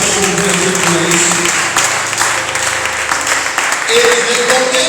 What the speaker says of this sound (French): Acclame pour la gloire de Jésus